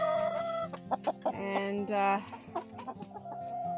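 Several chickens cluck and squawk nearby in short, uneven bursts, with a brief spoken word mixed in, in a coop during a deep-cold Canadian winter.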